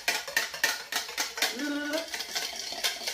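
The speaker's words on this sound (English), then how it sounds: "I'm just gonna give that a little whisk." Rapid clinking of a whisk against a bowl, beating apple cider vinegar with Udo's oil into a vinaigrette; close, busy metallic taps in quick uneven bursts with no talk.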